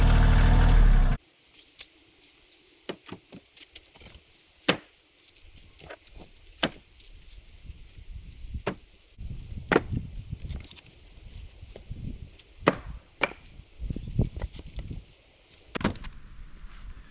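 A Fiskars Isocore 6lb maul splitting wood, heard as a series of sharp separate impacts spaced a second or two apart over quiet outdoor background, with some shuffling and scraping between strikes.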